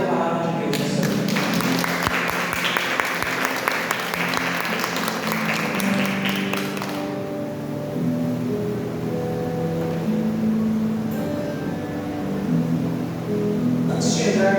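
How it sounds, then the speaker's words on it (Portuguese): A church congregation applauds during an evening service. Dense clapping fills the first seven seconds, then fades into a quieter room where a voice speaks. "Vamos aplaudir a palavra de Deus nessa noite."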